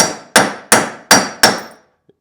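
Five sharp metallic hammer strikes driving a bearing into a mower wheel, in a steady rhythm, each ringing briefly before the next, close and loud, then silence.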